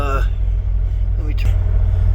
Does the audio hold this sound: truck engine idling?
yes